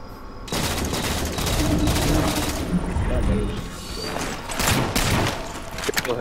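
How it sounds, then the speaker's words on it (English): Halo 4 multiplayer gunfire with DMR rifle shots, a steady run of loud, closely spaced bursts lasting several seconds, with game noise and voices talking over it. "I literally just missed four shots of the DMR."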